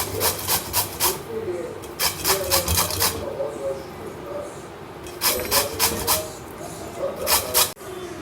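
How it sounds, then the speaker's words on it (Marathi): Mango is rubbed across a hand grater in repeated rhythmic bursts of rasping strokes, loud and close, with pauses between the bursts. "तर या किसणीच्या साह्याने मी किसून घेते"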